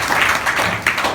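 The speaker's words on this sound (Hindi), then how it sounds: "सब लोग अपने लिए ताली बजा लो।" Schoolchildren in a classroom clap for themselves, a brief burst of many hands applauding together at close range, with a few sharper slaps near the end.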